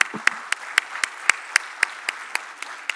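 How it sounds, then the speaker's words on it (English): Sparse, evenly spaced claps from a small audience after a health panel discussion at a Dubai event, about a dozen distinct crisp hand claps over three seconds, fairly close and with no talk. "A big round of applause."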